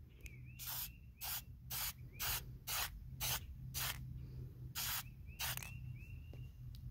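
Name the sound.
spraying seal coat onto model ship wooden deck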